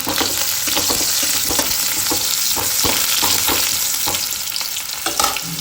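Onions sizzle loudly in a pan with a dense continuous crackle, while regular stirring strokes scrape through it, close and without voices.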